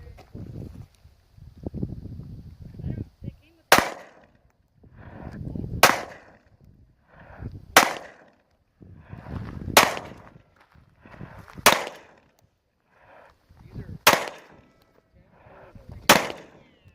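Pistol shots ring out on an outdoor range toward an orange target, seven sharp, loud cracks spaced about two seconds apart, with a voice talking quietly between the shots.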